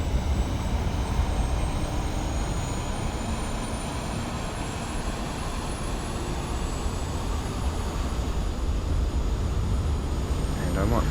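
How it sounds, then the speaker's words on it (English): A jet's APU spools up in a flight simulator game while the airliner sits at a jet bridge, giving a steady, loud broadband roar with a thin high whine climbing gradually above it. "We can see the APU is firing up."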